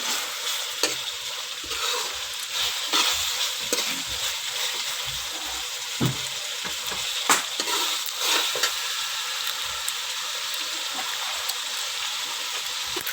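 Minced mutton keema with yogurt and cauliflower is stirred in a hot pan, a continuous bright sizzle marked by repeated scraping strokes and soft thuds of the spoon, close by, with no talking.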